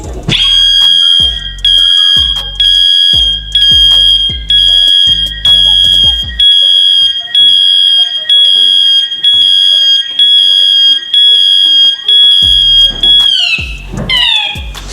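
A loud, shrill electronic reverse buzzer on a Tata Daewoo Prima truck beeps in quick regular pulses, then holds one continuous tone before beeping again near the end.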